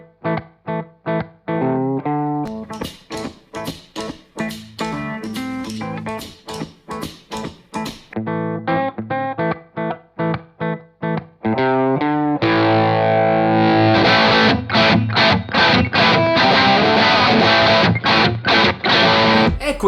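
Electric guitar through a medium-high gain, fairly open overdriven amp tone, played as loud distorted chords and riffs alone with no talking; the attack softens in the middle as the volume is rolled back, then swells to a full, dense roar near the end.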